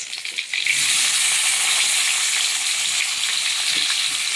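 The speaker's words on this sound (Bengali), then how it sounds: "পেঁয়াজটাকে ভালো করে ভাজতে হবে।" Onion sizzles loudly and steadily in hot oil for a fish curry, turning golden brown, a bright continuous hiss swelling after a brief quieter start, with no voices.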